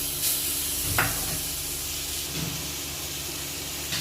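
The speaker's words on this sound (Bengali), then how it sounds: "এই আমি নুন দিয়ে কিছুটা ভেজে নেব" Pointed gourd frying in hot oil with salt, a steady close hiss and sizzle with a faint stir or clink near the start.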